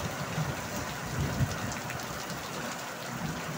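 Rain falls steadily outdoors near a house, a dense continuous hiss of drops with a low rumbling undertone, moderately loud and with no talking.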